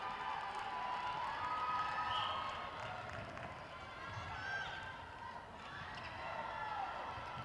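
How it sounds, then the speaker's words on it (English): Spectators at a South Africa versus Jamaica netball match cheer and shout in a steady, distant crowd roar that swells and dips across the whole stretch. "Crowd looked like it was getting a bit loud there for that one onlooker"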